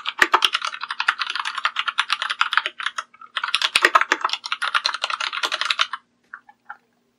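Rapid typing on a computer keyboard while a Vue.js to-do app is coded, two close bursts of quick, crisp keystrokes separated by a short pause, ending with a few isolated taps.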